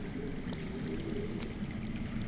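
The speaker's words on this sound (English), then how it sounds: "That's water. I hear water. From underground." Underground water runs in a cave in the Game of Thrones Telltale video game, heard as a soft, continuous low rushing flow, faint and steady with no voices.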